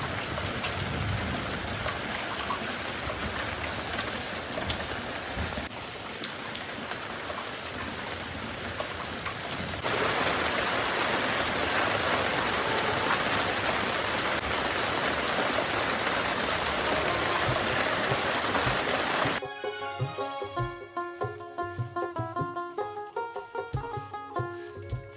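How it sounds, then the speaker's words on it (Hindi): Steady, continuous rain falls outside a village home, a dense even hiss that holds for about nineteen seconds before music takes over to the end. "अभी भी बारिश लगातार हो रही है"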